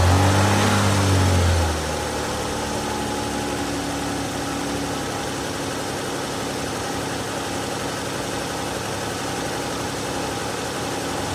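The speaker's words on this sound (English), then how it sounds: "So I'm going to go in there and start the car." A Dodge 3.6L V6 car engine cranks and fires with a loud, brief start burst, then settles into a steady, even idle that runs on alone at close range.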